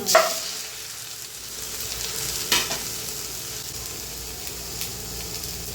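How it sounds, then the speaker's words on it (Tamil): Garlic dropped into a pan of already softened onions sizzles steadily as it sautés for a South Indian garlic fenugreek-leaf gravy, with a couple of sharp stirring scrapes over the constant frying hiss. "இதில் பூண்டும் போட்டுக்கிடுவோம். பூண்டும் அப்படியே வதங்கி"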